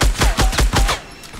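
Rapid bursts of gunfire in the Fortnite battle royale video game, five or six loud, closely spaced shots in quick rhythm, then a quieter tail with no talking.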